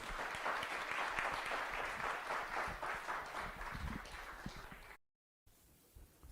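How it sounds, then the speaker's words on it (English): An audience at the Asia Forum in the Fondazione Querini Stampalia, Venice, applauds a speaker with a full, steady round of clapping that fades after about five seconds, followed by a short gap and quiet room tone. "just a hand of applause for Abbas"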